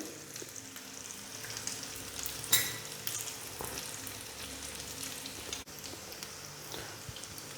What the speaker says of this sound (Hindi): अच्छी तरह थोड़ा शैलो फ्राई होने देंगे।